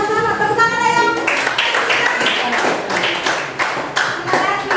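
Students in a classroom clap loudly and unevenly after a class presentation, with a voice calling out at the start and chatter mixed in under the clapping.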